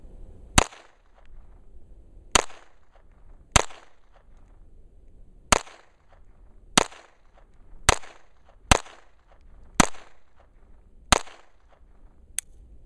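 Ten sharp, close shots from a Kimber 1911 pistol with a .22 conversion, fired singly at an uneven pace about a second apart, each a crisp crack with a short decay, no talking.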